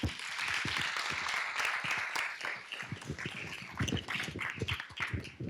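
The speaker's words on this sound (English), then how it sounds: "we would like to applaud our mayor for all his efforts and support" Steady applause from a crowd at a town council meeting, many hands clapping densely and continuously throughout, with no talking over it.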